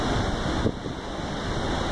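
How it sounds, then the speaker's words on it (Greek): Steady, dense roar of the Niagara Falls waterfall on a cold, windy day, a continuous broadband rush with wind buffeting the microphone. "Βρισκόμαστε στους καταρράκτες του Νιαγάρα"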